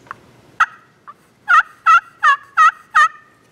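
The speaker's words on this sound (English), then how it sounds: "Make it sound like a turkey." A plexiglass pan turkey call scraped with a striker gives a few short squeaks and then five loud, evenly spaced turkey-like yelps, close and alone.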